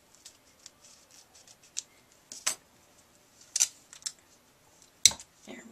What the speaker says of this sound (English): Let me grab my scissors here. I need to trim that off just a little bit.